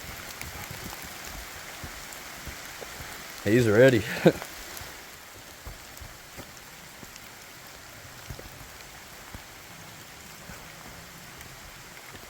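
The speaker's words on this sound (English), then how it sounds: "Finally out of the rain." Steady rain patters on foliage and ground during a summer forest hike in Kentucky with a dog, a soft continuous hiss broken by a brief spoken remark near the start.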